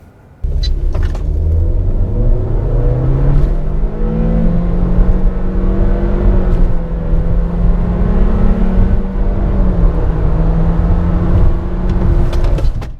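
Two AWD crossovers, a 2019 Toyota RAV4 Limited and a 2019 Honda CR-V Touring, accelerate hard from 0 to 100 km/h with a steady, loud engine drone that rises in pitch through the gears for about twelve seconds.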